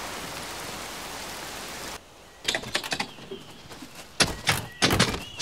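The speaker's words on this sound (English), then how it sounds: "It is pouring with rain" Pouring rain makes a dense, steady hiss for about two seconds before cutting off, followed by scattered dull thuds and knocks.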